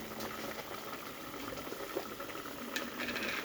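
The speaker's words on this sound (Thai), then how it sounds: "ทีนี้ก็เดือดได้ทีครับ" Red snapper curry with pickled bamboo shoots at a steady boil in a pot, a constant close bubbling hiss with a few faint pops, no talking.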